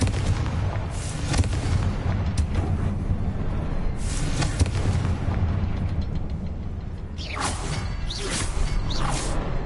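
Confringo spell blasts in Hogwarts Legacy, a series of booming explosions and whooshing bursts at game volume, some sharp swishes near the end, no voices.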